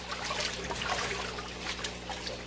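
Hides swished and stirred in a tub of liquid neutralizing solution, giving quiet trickling, sloshing water sounds that continue softly without pause.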